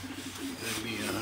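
A racing pigeon held in the hand gives low, steady cooing near the listener against a quiet loft background, while someone talks over it.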